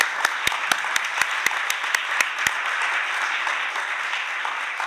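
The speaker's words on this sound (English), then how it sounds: "yes, first applause." An audience at an environmental emergencies forum session breaks into applause, beginning with a few distinct close claps and then settling into a steady, even wash of clapping from a crowd.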